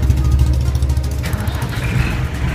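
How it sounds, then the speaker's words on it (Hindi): The deep diesel engine of an ACE 12-ton Hydra crane starts and rumbles loudly and steadily, its heavy low throb settling into an idle after a brief shift in tone. "इससे हमारा इंजन स्टार्ट होता है। चलिए मैं स्टार्ट करता हूँ"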